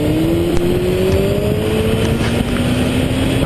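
A sport motorcycle revs for a wheelie, its loud, close engine note rising steadily in pitch over a rough, constant roar.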